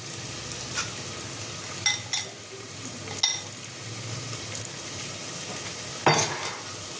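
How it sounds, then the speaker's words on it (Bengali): Schezwan fried rice is stirred in a pan, a soft sizzle underneath with scattered scraping clinks of a spatula against metal, close up and without talking. "রাইসটা দিয়ে ভালো করে মিশিয়ে নেব।"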